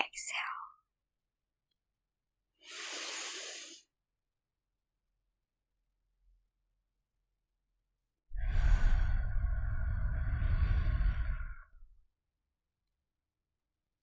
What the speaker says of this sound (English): a juicy inhale and a juicy exhale